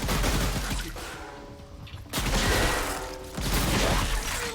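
Bursts of enemy gunfire in the video game Ghostship Chronicles, dense rattling volleys with mechanical clatter, loud and close, breaking off briefly partway through before a second and third barrage resume.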